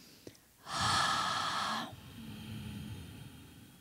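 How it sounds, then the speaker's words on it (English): A single slow, hissing throat breath in ujjayi yoga style, a rasping Darth Vader-like exhale lasting about a second, close and fairly quiet, followed by a softer breath. "Can you hear that Darth Vader sound?"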